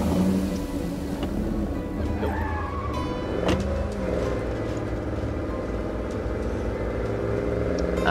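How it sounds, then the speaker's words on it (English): A car drives in the zombie survival game State of Decay 2, its engine a steady, rumbling drone with road noise that holds level throughout. "So let's just hop in the car."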